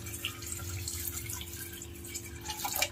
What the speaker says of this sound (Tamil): ஸோ இது கூடவே கொஞ்சமாக இது மேலே வர அளவுக்கு நம்ம தண்ணி ஆட் பண்ணிக்கலாம்.